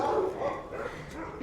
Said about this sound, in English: There's the baby barking at our neighbors.